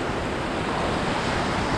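Surf breaks onto a barred beach while fishing, producing a continuous, loud wash of foamy roar with wind mixed in.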